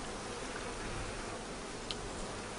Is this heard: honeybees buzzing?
yes